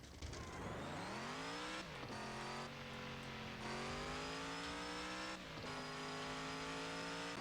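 Lifted Chevy C10 in the Offroad Outlaws video game making a boosted launch: a loud engine climbs through rising revs with sharp gear-change breaks, a continuous game-engine roar with no talk.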